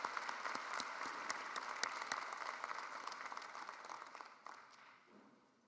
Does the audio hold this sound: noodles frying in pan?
no